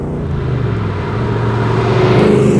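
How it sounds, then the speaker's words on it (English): 1967 L71 Corvette with a 427 cubic inch big-block V8 on the NCM Motorsports Park race track, a loud low engine roar that builds steadily as the car accelerates. "1967 Sweat Hog L71 Corvette on the track at the NCM Motorsports Park."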